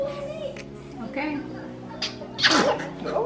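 A single sharp sneeze bursts out near the end, following soft murmuring and small vocal sounds close by.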